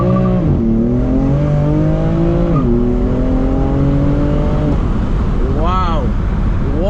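A BMW F80 M3 CS accelerates hard at full throttle, its engine note climbing through the gears with brief dips at each upshift, heard from inside the cabin under loud road and wind noise while people talk.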